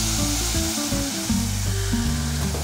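Risotto rice for a lemon risotto with trout sizzles loudly in a pan as white wine is poured in, a steady dense hiss with stirring and background music.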